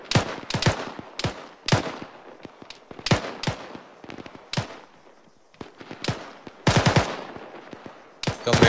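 Enemy gunfire in the military shooter Arma 3, loud sharp cracks fired in short irregular bursts and single shots, some close and some more distant, with quiet gaps between volleys.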